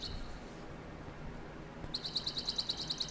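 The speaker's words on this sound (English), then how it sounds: "Birds chirping, yeah." Bird chirping from a Payday 2 sound file: a run of rapid, evenly spaced high tweets enters after a quiet stretch of faint background noise and repeats steadily to the end.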